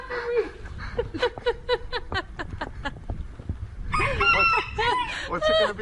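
A rooster crows and clucks loudly and close by in a rapid, repeated series of calls, followed by a longer burst of harsh crowing.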